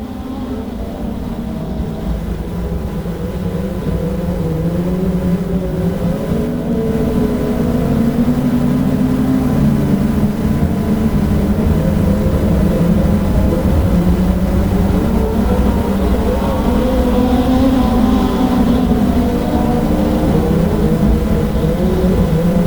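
Modified race cars lap a track under caution, their engines blending into a loud, steady, rumbling drone that swells slightly and holds, with several cars close together and no voices over it.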